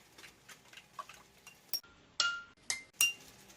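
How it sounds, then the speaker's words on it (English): A spoon clinks against the sides of a cup while a drink from a Czech MRE ration is stirred, giving several sharp, bright taps spaced irregularly over a quiet background. "Alright, I'll give the drink a stir real quick."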